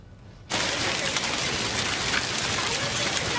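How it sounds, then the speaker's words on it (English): Hail pounds the sidewalks in a Cumberland County hailstorm, starting abruptly after a quiet moment and then roaring as a dense, loud, continuous clatter with no voices. "Hail pounding the sidewalks today here in Cumberland County."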